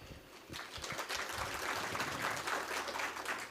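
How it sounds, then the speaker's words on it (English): Audience applause fills a formal corporate plan launch for the Kenya Revenue Authority, steady dense clapping sustained for a few seconds at moderate distance, with no talk over it. "An applause."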